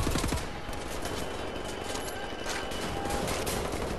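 Rapid automatic gunfire from the Wolfenstein: The New Order video game, a continuous dense crackle of shots dominating the whole stretch at steady loudness.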